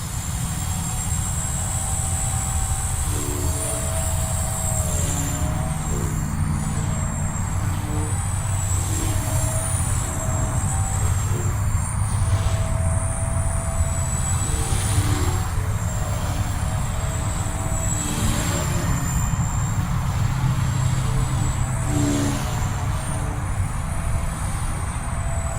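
A Blade Fusion 180 micro drone on a 4S battery whines continuously through the air, its high-pitched motor tones rising and falling as it maneuvers, steady and moderately loud with no talking.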